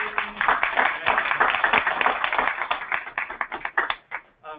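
An audience at a water conservation workshop claps for a speaker, a few seconds of loose, close clapping that thins out and stops.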